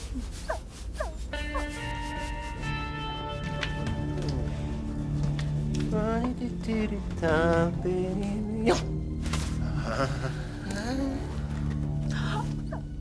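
A small dog whines and whimpers in high, wavering cries, with short yelps mixed in over a low background rumble.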